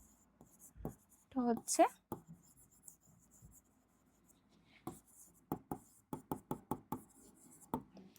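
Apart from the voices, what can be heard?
writing on a board or paper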